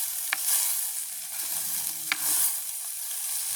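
Food frying in a pot during village cooking, stirred now and then: a soft steady sizzle broken by a few sharp scrapes and knocks of the spoon against the pot, no talking.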